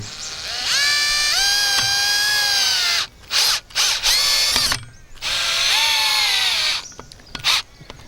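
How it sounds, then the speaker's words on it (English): A cordless drill whirs in several bursts, a long run, a few short stuttering pulses, then another sustained spin as it drives a screw attaching an oscillating stirrup hoe head to its handle. "you can just take your cordless drill"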